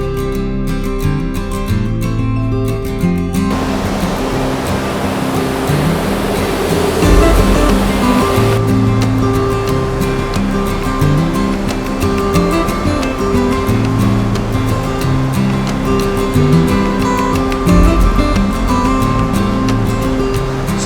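Steady broadband rush of a waterfall in Wisconsin in spring at sunrise, loud and continuous throughout, with faint tonal hum lines in the background and no voices.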